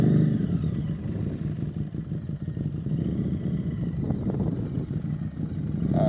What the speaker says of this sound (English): We want to be hearing the bike revving.